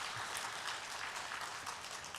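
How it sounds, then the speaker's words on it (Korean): Church congregation applauding together in encouragement during a Sunday afternoon worship service, a steady wash of many hands clapping at moderate, even loudness for the whole stretch, slightly distant and without voices. "응원, 격려의 박수로 하나님께 올려드리도록 하시겠습니다"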